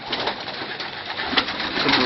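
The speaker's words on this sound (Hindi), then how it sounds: "कबूतर।" Pigeons in a rooftop loft coo steadily and close, several soft overlapping calls with a busy, slightly rustling background and no talking.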